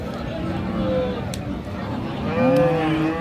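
Cattle low at a busy rural cattle market in Dinajpur, with two drawn-out moos sounding close by over the crowd's babble and people talking.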